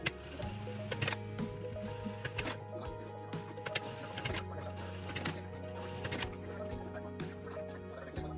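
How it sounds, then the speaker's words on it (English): A sewing machine stitches T-shirt fabric in quick mechanical bursts, a low whirring hum broken by short stops and restarts, close and fairly quiet. "And then to the sewing machines to completely stitch it down."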